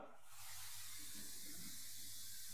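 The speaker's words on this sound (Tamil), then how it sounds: "நான் இதை ஆன் பண்ணிட்டேன், தண்ணி இங்கே வந்துருச்சு." Water rushing in after a pump is switched on, a loud, steady hissing gush that swells within the first half second and keeps flowing close by without talk.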